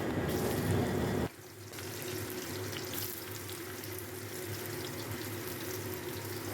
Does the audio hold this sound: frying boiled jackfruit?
yes